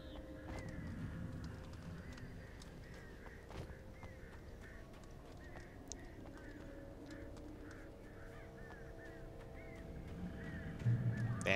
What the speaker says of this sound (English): Damn these birds!